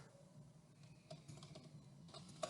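Soft keystrokes on a computer keyboard tap in a quick, irregular run as text is entered, faint and close, with no one talking.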